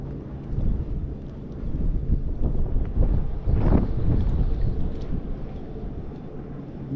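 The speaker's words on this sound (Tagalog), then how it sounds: "Medyo malakas ang hangin." Strong wind buffets the microphone in a steady, rumbling roar that swells and gusts, with no voices.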